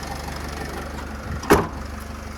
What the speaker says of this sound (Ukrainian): Моторчик шепче просто. Дуже гарна робота мотора.